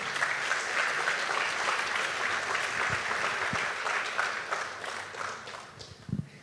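A church congregation applauds during worship, a dense, steady wash of many hands clapping at full strength for several seconds, thinning slightly toward the end with a few louder close claps.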